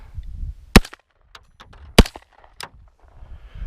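A Smith and Wesson M&P AR15 pistol with a 7.5-inch barrel fires two sharp, loud shots about a second apart, with quieter handling noises and knocks between them.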